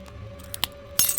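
A foot comes down on the broken remains of a beer bottle, giving a few short glassy clinks followed by a brighter crunching scrape, close and fairly quiet.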